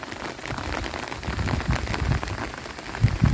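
Heavy rain pours steadily during a typhoon storm in a rural fishing spot, with dense patter on surfaces and a few louder close splashes near the end.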